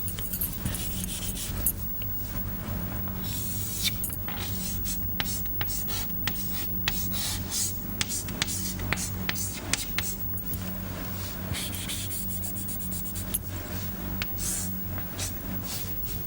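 Chalk or marker scratches out an equation about diffusion surface concentration on a board, a steady run of short strokes and taps heard faintly beneath a lecturer's ongoing speech.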